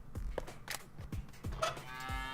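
A cartoon cow in the point-and-click adventure game Deponia lets out a series of low, drawn-out moos, several close bellows spaced about half a second apart, with a faint tonal chime near the end.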